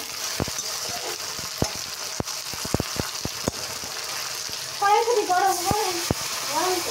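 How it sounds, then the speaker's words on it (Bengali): Vegetables frying in a pan and being stirred in a home kitchen, with steady sizzle, sharp clinks of a utensil against the pan, and a voice speaking briefly near the end. "তাই একটু আনাজটাকে নাড়িয়ে দেবো"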